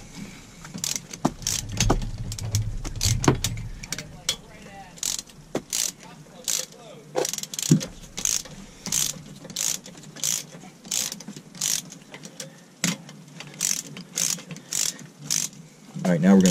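A ratchet wrench snugs down bolts on a Mercruiser 5.7 exhaust manifold, giving brisk, regular bursts of sharp clicking strokes close up, with mechanical handling noise and brief talk early on.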